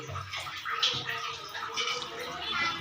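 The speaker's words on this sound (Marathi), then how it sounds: "पाणी भरले आता" Water runs and splashes steadily into a container for a few seconds, a soft continuous rushing sound with faint background noise and no clear talk.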